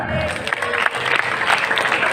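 A room of high-school students claps together, producing a dense, steady wash of applause that lasts the whole moment without any break.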